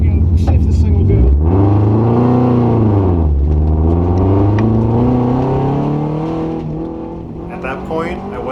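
A rally car accelerates hard at the start of a stage, its engine loud and close, revving up and falling through the gears before easing away. Voices are heard in the car.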